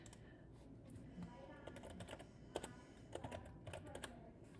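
Soft, close tapping on a computer keyboard in short bursts of clicks, faint and quiet against a low background hum.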